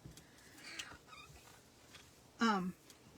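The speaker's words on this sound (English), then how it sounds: "we may have a cat visiting us" A single short, strained meow rises briefly out of a quiet room with faint background noise, fairly close.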